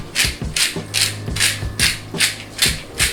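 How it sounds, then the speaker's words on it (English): A black and white pepper grinder being twisted in a kitchen while making sweet and spicy pepper jack sliders, giving a close, loud rhythmic rasping grind in about seven even bursts, alone with no talk. "I'm using the black and white pepper grinder."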